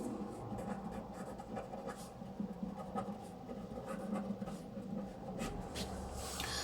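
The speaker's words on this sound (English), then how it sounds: "let me write it down" Someone writes on a board during a classroom lesson, making a soft, continuous scratchy rubbing with short strokes and pauses, close but faint.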